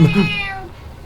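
A single close, loud real cat meow, heard during Outlast gameplay, that fades out quickly.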